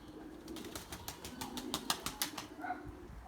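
An Erzurum white pigeon flaps its wings in flight, giving a quick rhythmic series of close, crisp wingbeats that fade out near the end, with faint cooing underneath.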